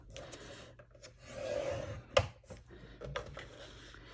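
Paper card stock scored with a scoreboard tool: soft, close rubbing and rasping strokes that come in short, uneven passes, with one sharper scrape near the middle, all fairly quiet.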